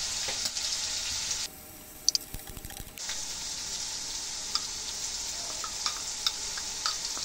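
Cubed chicken hits a hot pan for fried rice, giving a bright, constant sizzle that dips briefly amid scraping and clatter, then surges back steady and close.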